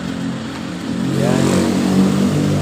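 Diesel car engine revved during a fuel-system purging, a mid-pitched engine rising from idle into a sustained, louder rev with no talking.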